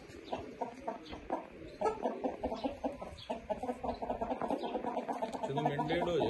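Pama breed roosters clucking in repeated short, rhythmic bursts, close and fairly clear, with a few faint voices talking in the background.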